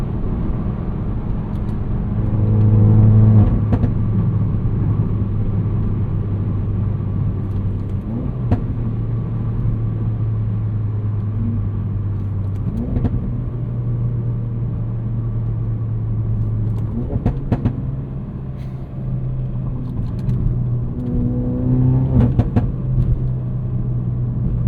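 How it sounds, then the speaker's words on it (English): A slightly modified 2016 Ford Focus RS hot hatch drones steadily on a morning commute, its engine holding a low hum with several rises and shifts in pitch as it accelerates and changes gear, heard from inside the car. "there's a morning commute in a 2016 slightly modified Ford"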